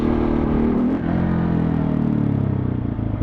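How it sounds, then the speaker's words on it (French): A motorcycle engine revs high and holds steady, then the clutch is let out to lift into a wheelie, a loud close harmonic drone with a brief dip and slight pitch shifts. "je mets la moto un peu dans les tours et je lâche"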